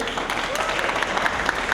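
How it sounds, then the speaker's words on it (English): An audience claps during a talk, producing a short, steady burst of mixed handclaps that fills the space at moderate loudness. "Clap your hands for the flame."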